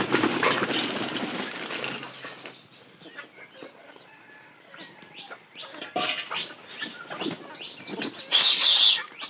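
Pigeons in a loft flap their wings in bursts, rustling near and then louder toward the end, with some cooing and a person speaking briefly.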